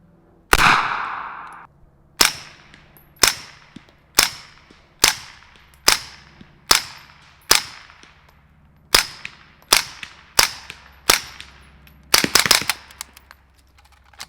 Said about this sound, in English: So the last 9mm we're going to shoot it on is the Uzi.